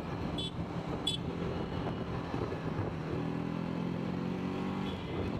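A new TVS motorcycle rides fast along a road, its engine a steady low drone mixed with wind and road rumble, recorded from the bike at moderate level with no talking.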